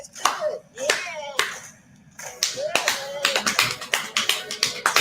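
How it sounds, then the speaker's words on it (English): Sharp claps from a group following a spoken cue, a couple of single claps then a quick run of repeated claps, mixed with a voice talking between them. "now when I say jam it, we're gonna clap"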